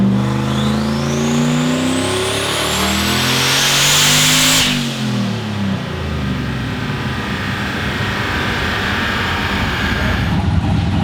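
A turbocharged sleeper Volvo car pulls hard, its engine revving steadily upward past 6,000 RPM with rising turbo whine, then lifts off and the loud close drone falls away into a lower cruising rumble.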